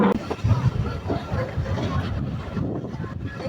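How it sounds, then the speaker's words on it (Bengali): A local shuttle train on the Poradaha Junction to Goalundo Ghat route pulls out of Pachuria Junction station, giving a steady low rumble under buffeting wind noise, with faint voices in the background. "আমাদের ট্রেনটি কিন্তু পাতুরিয়া জংশন রেল স্টেশন ছেড়ে গেল"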